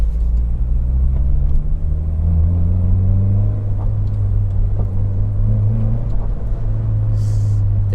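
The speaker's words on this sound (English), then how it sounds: "This engine is so much peppier." A Peugeot 405 Mi16 runs under way with a strong, steady low engine drone and road rumble, pitch rising gently as it pulls, with no talking over it.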